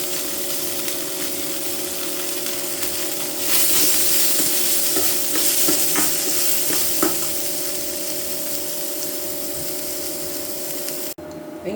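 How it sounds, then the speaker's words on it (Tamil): Onions and green chillies fry in a pan with ginger-garlic paste for matar paneer gravy, a loud, steady sizzle with occasional stirring scrapes that continues the whole time. "இப்போ வெங்காயம், பச்சை மிளகாய் போட்டுக்கலாம்."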